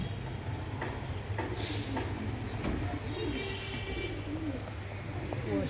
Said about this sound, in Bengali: তো এই যে আমি কবুতরগুলো আজকে একটু দেরি করে ছাড়লাম ঠান্ডা দেখে।